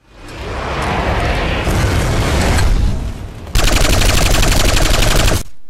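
Pulsar LSW light support weapon firing in Planetside 2, a loud wash of shots followed by rapid, evenly spaced automatic bursts that hammer on steadily for a couple of seconds.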